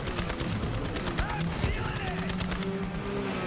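Rapid gunfire from a moving vehicle in Borderlands 3, a steady run of sharp shots over engine drone, moderately loud throughout.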